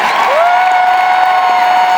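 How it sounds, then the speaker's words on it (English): An audience at a musicals concert in a large arena applauds steadily, a dense, loud wash of clapping throughout, with a sustained whistle-like tone running above it. "Big round of applause, everybody."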